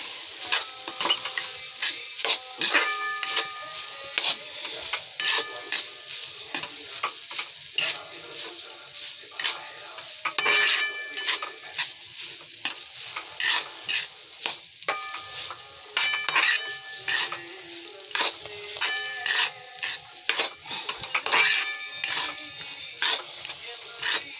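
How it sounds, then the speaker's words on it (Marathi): Grated coconut fries in oil over a low flame, a soft steady sizzle broken by frequent spoon scrapes and clinks against the pan as it is stirred, with only faint talk now and then. "याला नाही का चांगले फ्राय होतपर्यंत आपण तेलामध्ये फ्राय होऊ देऊ, कमी आचवर."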